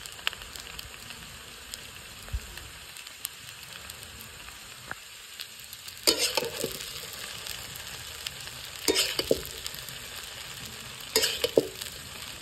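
Chowmein with carrot, capsicum and beans sizzles steadily in a hot pan, with three louder bursts of tossing and stir-frying clatter.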